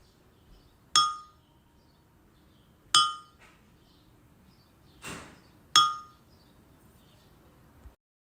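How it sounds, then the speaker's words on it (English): A metal fork strikes a brown clay bowl four times at uneven intervals, each a bright ringing clink that decays quickly, close and fairly clear against quiet background. "I hit a fork against this brown kind of clay bowl"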